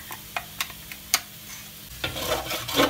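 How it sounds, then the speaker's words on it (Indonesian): Garlic and shallots sautéing in oil over low heat: a sparse run of sharp taps and scrapes from a stirring utensil, followed by a building, close, crackling sizzle, with no talking. "Ini udah lagi ditumis ya."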